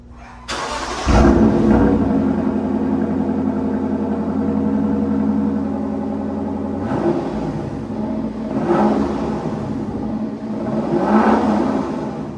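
A Lexus LC 500's V8 engine fires up with a sharp bark, settles into a steady rumbling idle, then swells through several throaty revs, close and loud with no talking.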